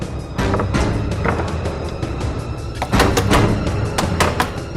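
Someone pounds hard on a door trying to break it down, a rapid series of loud, heavy thuds and rattling knocks repeating close by over a tense background.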